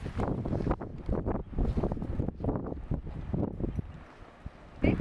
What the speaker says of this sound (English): Let's hope it's not too windy.